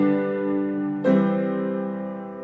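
A passing six-four chord progression in four-part harmony, with the bass moving by step through the middle chord: one sustained chord changes cleanly to the next, played alone and clearly.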